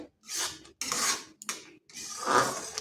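A two-ingredient sweet mixture with cashews being stirred continuously in a pan, heard as loud, close rasping scrapes of the spoon in four sweeping strokes separated by brief pauses, with no voices.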